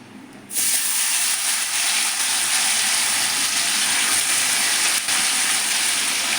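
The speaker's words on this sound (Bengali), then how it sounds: "এবারে আমি চিকেনটাকে দিয়ে দেবো।" Chicken hits a hot pan and erupts into a loud, close, continuous sizzle that starts abruptly and holds steady with no talk.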